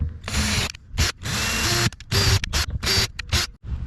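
A power drill set to low torque drives a screw while mounting a Yak Attack Mighty Mount II on a kayak, whirring in several short, close, loud bursts separated by brief pauses and clicks.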